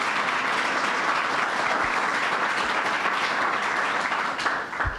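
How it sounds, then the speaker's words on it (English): An audience applauds at Governor Cuomo's broadband announcement event, a dense, sustained wash of clapping from a crowd that holds steady and begins to thin out toward the end. "Let's give him a round of applause."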